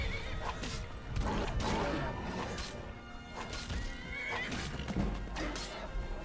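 A horse neighs in the Dota video game amid busy, layered game-match audio, its whinnies rising clearly over clattering hooves and crashing impacts for several seconds.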